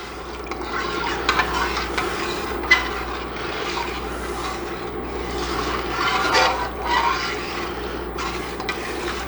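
A spoon scrapes and swirls in a pot of braising liquid for pot roast, a steady close wet rasping with repeated stroke-like surges and small clinks, no talk over it.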